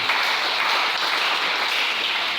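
A church congregation applauding together to acclaim the Lord, a dense, steady wash of many hands clapping at full strength throughout, with no voices rising above it.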